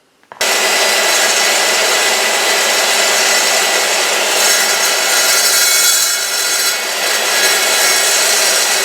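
A tool cuts through 3/8 inch steel plate with a continuous loud, harsh rasping hiss that starts abruptly and holds steady.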